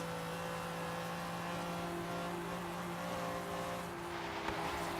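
A powerful BMW sports car in the Forza Horizon 3 racing game, an M3 or M5, roars steadily at high revs in fifth and sixth gear while its rear tires spin, a continuous droning engine tone throughout.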